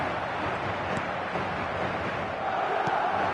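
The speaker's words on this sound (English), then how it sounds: "the crowd are reacting to that now" Football stadium crowd reacting, a dense, continuous roar of many distant voices that swells slightly toward the end, with no single speaker standing out.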